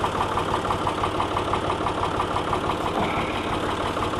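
Small tractor of about 48 horsepower idling after pulling a disc through a field: a steady, close, loud diesel rumble with a fine, even knocking pulse and no talk.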